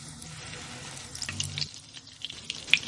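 Chicken snack pieces deep-frying in hot oil give a quiet, steady bubbling sizzle, with a few light clinks of a utensil near the end.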